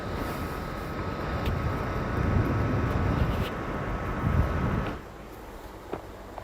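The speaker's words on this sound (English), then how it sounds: "The jet fan is so much quieter because it's really blowing that air." Laptop cooling jet fan blowing air after an mSATA SSD install, a steady broadband whoosh with a faint constant whine that drops sharply to a much quieter hiss about five seconds in.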